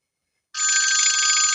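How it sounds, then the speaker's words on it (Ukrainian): After a moment of silence, a telephone bell starts ringing, a loud continuous electronic trill close by, in Minecraft. "хтось дзвонить. Треба телефон дістати."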